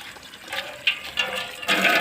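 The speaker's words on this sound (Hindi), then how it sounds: "थोड़ा सा पानी डालूंगी," Water is poured into a marigold plant pot in short bursts, splashing and trickling close by with a fizzy, hissing texture, with no talk.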